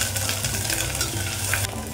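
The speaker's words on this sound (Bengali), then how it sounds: "কাজুটা একটু ভাজা ভাজা হয়ে গেলে জিঞ্জার পেস্ট দিয়ে দেবো" Cashews and ginger paste frying in a pan, a steady close sizzle broken by scraping stir strokes, with no voices.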